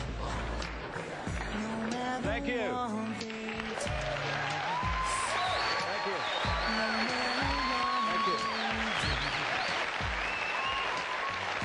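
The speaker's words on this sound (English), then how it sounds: "For now, David takes his applause" An audience applauds David over loud music with a deep, pulsing bass line, the clapping steady and continuous throughout, and a voice briefly offers thanks.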